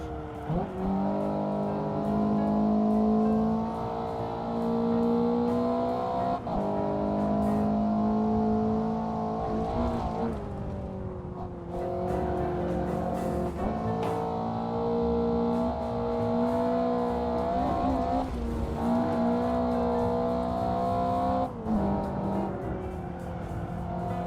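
A race car engine in a sim racing video game roars loud and close, holding a high, strained tone that dips and climbs with repeated gear shifts and lifts, without voices.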